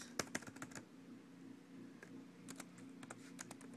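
Keystrokes on a computer keyboard as a source name is typed during capture card setup, coming in short quick bursts of close, crisp clicks with brief pauses between them.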